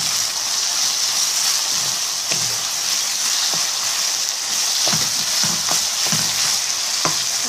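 Minced kefta meat sizzles loudly in a pan after salt, turmeric and paprika are added, with a steady bright frying hiss and several sharp clacks and scrapes as it is stirred, no talking.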